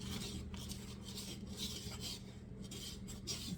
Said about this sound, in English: All right, put your nuts in here. I'm gonna mix this up.